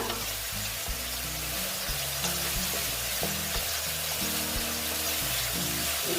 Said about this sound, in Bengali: দেখো বন্ধুরা দেখো মশলাটা প্রায় আমার কষানো হয়ে গেছে